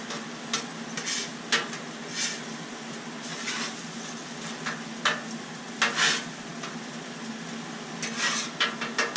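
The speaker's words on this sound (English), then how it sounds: "We scrambling eggs." Eggs scrambled on a Blackstone griddle running on residual heat, with a soft steady sizzle under repeated scraping and stirring strokes from a spatula, close by and moderately loud.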